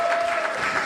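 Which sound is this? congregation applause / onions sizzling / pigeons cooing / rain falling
congregation applause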